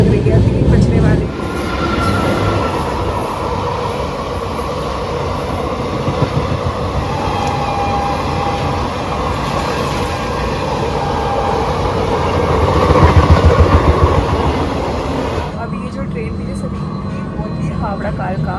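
The Howrah–Kalka train rolls along the rails in India with a loud, continuous rumble and rhythmic clatter, and a voice speaks over it.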